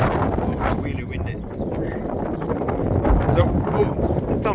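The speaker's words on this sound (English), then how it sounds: "Oh, it's really windy." Strong wind buffets the microphone with loud, rumbling gusts that rise and fall throughout.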